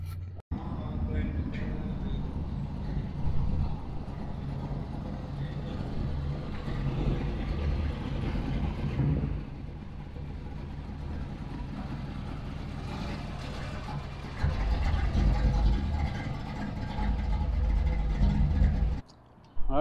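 Engine of a 1985 Chevrolet C10 squarebody pickup with a 5-inch rear drop rumbling as it pulls into a driveway, a steady low drone that surges louder near the end before cutting off, with talk over it.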